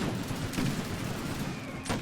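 Russo-Turkish War siege battle in a strategy video game, with scattered rifle volleys and cannon fire crackling at a distance over a steady rumbling din, fairly loud and continuous.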